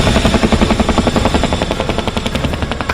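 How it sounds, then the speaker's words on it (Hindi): Chinook helicopter at an air show over Dal Lake in Kashmir, a loud, close, rapid rhythmic thudding of rotors roaring steadily throughout. "यहां पर लोगों के सबसे करीब चिनूक हेलीकॉप्टर आया। इसकी गरज जब घाटी में गूंजी तो कश्मीरी हैरान हो गए।"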